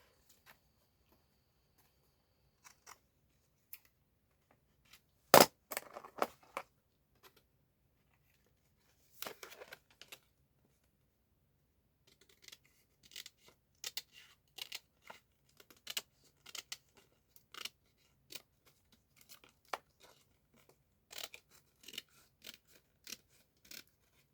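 Scissors snip through paper while making DIY envelopes, quiet and close, in scattered single cuts early on and then quicker bursts of clipping and rustling toward the end.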